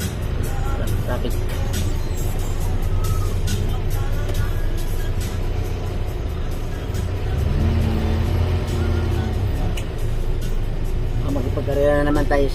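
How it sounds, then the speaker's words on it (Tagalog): Road traffic on a busy street in Santolan, with a steady low rumble of cars and buses passing and an occasional air-brake hiss, heard under continuous talking. "Traffic."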